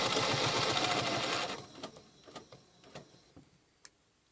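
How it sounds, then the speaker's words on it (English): A sewing machine stitching a Baptist fan quilt pattern along a ruler runs steadily and close for about a second and a half, then stops, followed by a few scattered light clicks and taps. "so I'm going to stitch to those two stop lines and stop"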